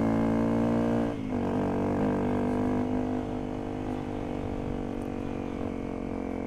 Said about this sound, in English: Bike's running good. I did a few tweaks to the fueling.